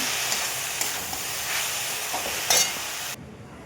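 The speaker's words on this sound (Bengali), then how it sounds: "তারপর একটু নাড়াচাড়া করে যে ভাজা ভাজা হয়ে যাবে" Steady sizzling and hissing of drumstick (moringa) leaves frying in a pan, with occasional scrapes and clatters of stirring, ending abruptly.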